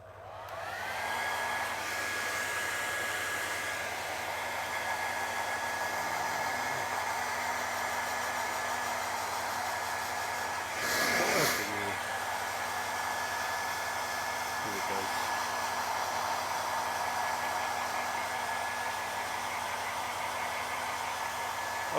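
A hair dryer blows steadily on a worn leather car seat, a close, even whooshing roar held for the whole span with a brief bump in the middle.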